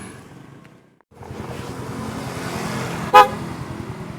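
A single short, bright electric horn beep from a newly fitted HELLA horn on a Yamaha Mio scooter sounds near the end, loud and close, over a steady low engine idle.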